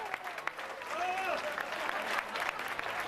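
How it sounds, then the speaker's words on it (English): Guests applaud the best man, Joe, at a wedding reception, a moderate spread of clapping with a few scattered whoops and voices over it. "a huge round of applause for our best man"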